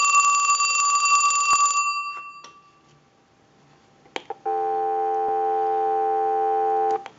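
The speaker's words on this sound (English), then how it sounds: "We'll give you some dial tone." A Mickey Mouse model telephone's bell ring trails off, a few clicks follow, then a steady electronic dial tone hums evenly for several seconds before cutting off.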